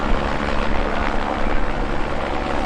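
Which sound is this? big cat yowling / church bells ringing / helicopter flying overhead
helicopter flying overhead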